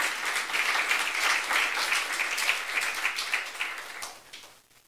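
Congregation at a church youth worship service claps together, a dense burst of hand clapping that holds steady for several seconds and then fades out quickly toward silence.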